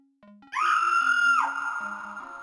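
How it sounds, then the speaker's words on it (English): A woman's high, sustained scream rings out in the 1993 game Return of the Phantom, rising sharply and holding before sliding down, set against low sustained synthesized music tones. "You hear a woman scream in the distance."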